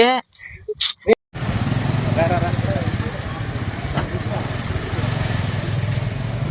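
A motorcycle engine idles steadily nearby with a low, even putter after a few brief bursts of voices at the start.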